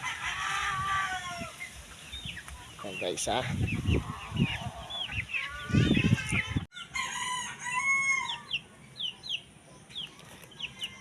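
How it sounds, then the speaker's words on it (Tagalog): Four-month-old cockerels crowing repeatedly and clucking nearby, with harmonic cock-a-doodle-doo calls throughout and someone talking over them for most of the stretch. "Ito ang ating manok guys."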